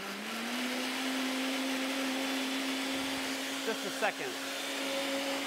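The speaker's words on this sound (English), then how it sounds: "It's actually a pretty quiet blender." A countertop blender whirs steadily, blending oil for an onion recipe in a cooking-class kitchen; a fairly quiet, even motor drone runs throughout while a person briefly speaks near the end.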